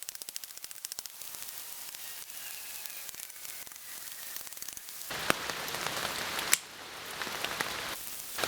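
Rain falls outdoors as a steady hiss of drops striking surfaces, starting softer and then swelling into a heavier, louder downpour with a few sharp pops.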